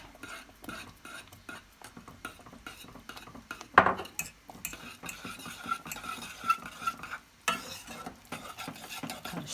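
A spoon stirs a thick tarhana mixture with grape molasses in a pot, making repeated close scraping and sloshing strokes with a few sharper knocks against the side.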